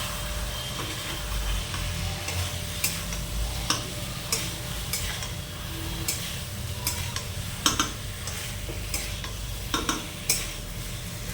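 Boiled potatoes being stirred into sizzling masala for a rohu fish curry, with a steady fry hiss and repeated scrapes and knocks of a spoon against the pan. No one talks.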